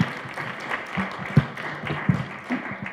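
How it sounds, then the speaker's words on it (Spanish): Light, scattered clapping from a lecture audience welcoming a neuroscience speaker, fairly quiet and uneven, with a few sharper claps standing out. "les pido un fuerte aplauso para el doctor Manuel Hernández Salazar"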